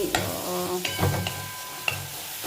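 Shrimp fry in a pan with a close, steady sizzle, punctuated by a few sharp scrapes and clinks of stirring, and no voices.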